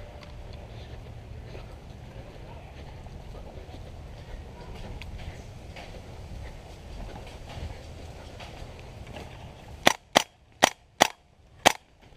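Five sharp airsoft gun shots crack in quick succession near the end of an outdoor airsoft game, loud and close after a stretch of low ambient noise.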